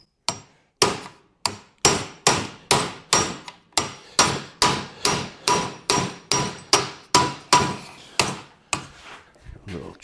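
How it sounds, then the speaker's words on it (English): Hammer blows driving a small chisel into the corners of metal louvers on a 1937 Zephyr, a steady series of about twenty sharp, close strikes in an even rhythm, gradually softening toward the end. "Little chisel action in the corners."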